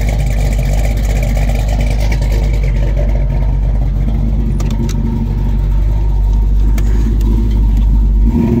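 A 1966 Ford Mustang with .355 rear gears rumbles loudly through its exhaust, a deep, steady close-up roar that holds throughout with slight surges, no talking over it.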